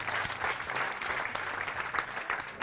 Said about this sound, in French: Je vous demande d'accueillir et d'applaudir bien fort comme il se doit